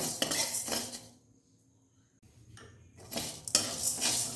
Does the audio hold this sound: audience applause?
no